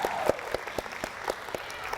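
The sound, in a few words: audience applause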